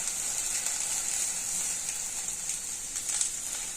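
Okra sizzling and frying steadily in a pan, a dense continuous hiss with scattered crackles and stirring scrapes, close and even throughout.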